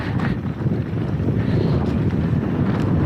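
Wind buffeting the microphone during a mountain bike ride on a Finale Ligure race course, a steady loud rushing roar throughout with no talk.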